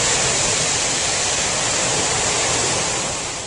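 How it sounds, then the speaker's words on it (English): A wave raised by a calving glacier in Alaska washes onto a river shore, a loud, broad, continuous rushing wash that fades slightly at the end, with no voices. "when the tsunami is generated,"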